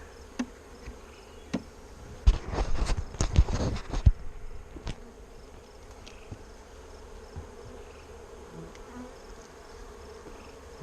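Honeybees buzz around an open hive as frames are checked and moved, a steady low insect drone with a louder burst of crackling, bumping activity near the middle, otherwise fairly faint and without speech.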